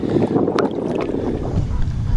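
Wind gusts across the lake, blustery and rumbling against the microphone, with lapping water around the boat and no talk.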